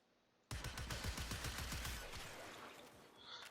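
Cyanex primary weapon firing in Warframe: a rapid burst of sharp shots starting abruptly, repeated quickly for about a second and a half, then a fading reverberant tail, loud and close with no talk.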